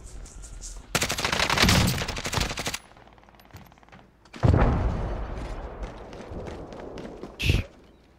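Bursts of rapid automatic gunfire from a battle royale shooter, with a long close volley, a second sustained burst and a short final burst, loud and with no talk over it.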